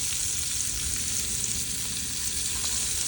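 Shrimp with garlic and tomato sizzle steadily in a hot pan, a dense, even frying hiss close by with no talking.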